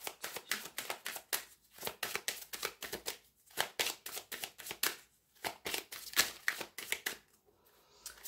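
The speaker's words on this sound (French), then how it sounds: "on va quand même bien mélanger ce jeu" A deck of tarot cards is shuffled by hand close up, a rapid series of crisp riffling bursts in an uneven rhythm, about a dozen flurries with short pauses between them and no talk.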